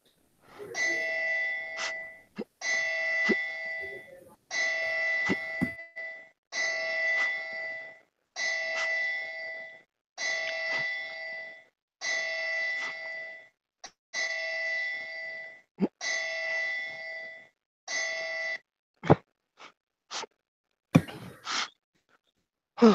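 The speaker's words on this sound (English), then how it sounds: "tone the bell 10 times" A ringside bell tolls ten times for a ten-bell salute at a wrestling show, each ring a clear sustained metallic tone at a steady slow pace, with a few sharp clicks near the end.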